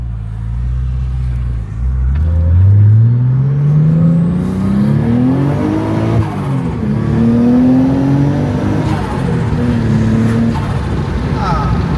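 A tuned Nissan Skyline R34 accelerates hard from inside the car, its engine climbing through the revs in long rising pulls separated by gear changes, with a voice heard over the loud engine.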